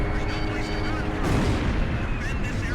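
Explosions destroying an enemy facility in the Ace Combat 5 video game: continuous dense rumbling blasts and gunfire-like bursts, loud and steady, with game radio voices talking over them.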